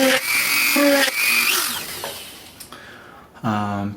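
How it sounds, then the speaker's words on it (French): Small power drill boring little drainage holes in the base of a homemade rain gauge, several short high-pitched whining bursts that rise and drop in pitch, with brief pauses between them and a final louder burst. "Il est aussi important de faire des petits trous dans la base pour évacuer le surplus"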